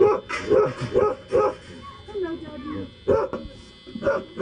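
A dog at a farmer's house gives several short, loud barks in quick bursts, close by, with people talking over and between them.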